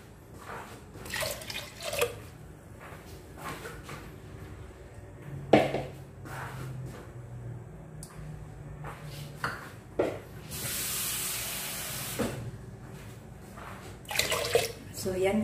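Water poured into a pot to boil lentils for Indian palak dal with spinach, a steady splashing rush near the end between drips and clinks, with a person talking throughout.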